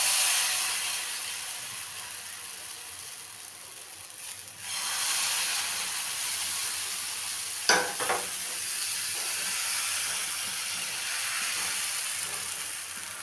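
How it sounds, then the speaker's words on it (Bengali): Patishapta batter frying in a ghee-brushed pan over low to medium flame, giving a continuous close sizzling hiss that swells after a brief dip, with one sharp clatter partway through and no voices. "আবারও আমি ঘি একটু ব্রাশ করলাম, করে আমি আবার গোলাটা দিয়ে দেব।"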